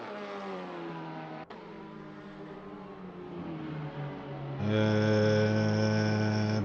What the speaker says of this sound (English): So you guys can hear the cars.